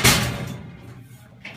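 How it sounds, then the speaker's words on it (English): The drawer of a putty-colored 30-inch metal four-drawer file cabinet shuts with one loud close thud and a rattling metallic ring that fades, then a faint small knock. "This top drawer is a little sticky, it needs some work."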